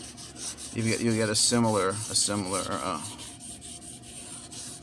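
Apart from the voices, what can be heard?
rubbing blade flats on a sharpening stone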